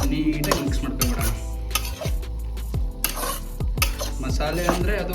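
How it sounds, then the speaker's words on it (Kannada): A spoon scrapes and knocks around a pan as ground coconut, ginger, garlic and whole-spice masala is mixed into softened tomatoes, the strokes close and regular, with a light sizzle beneath. "ಮಸಾಲೆ ಹಾಕಿ ನೀಟಾಗಿ ಮಿಕ್ಸ್ ಮಾಡ್ಕೊಂಡ್ಬಿಡೋಣ."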